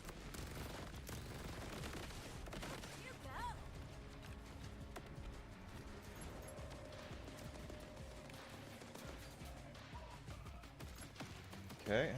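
Gunfire in Borderlands 4 with a high fire rate, a dense stream of rapid shots rattling at moderate level beneath someone talking.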